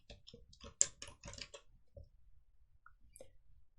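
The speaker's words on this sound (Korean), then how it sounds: "내용은 바로 타이핑해 보실게요." Fingers typing on a computer keyboard, a quick burst of sharp key clicks followed by a few scattered, sparser taps, close and clear against a quiet room.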